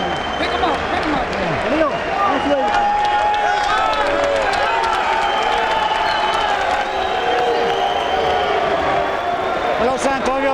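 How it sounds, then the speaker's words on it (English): A boxing crowd at Mohegan Sun applauds and cheers loudly and continuously, a dense wash of claps and voices with an announcer talking over it. "the crowd showing its appreciation here at Mohegan Sun"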